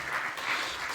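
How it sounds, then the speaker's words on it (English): A lecture-hall audience at ETH gives a brief burst of continuous applause as a guest joins the stage, a dense wash of clapping lasting about a second. "Let's give her a round of applause as she joins you on the stage."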